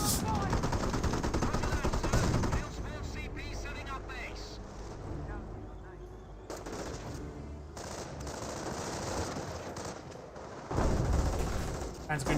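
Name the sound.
rifle gunfire in Company of Heroes video game battle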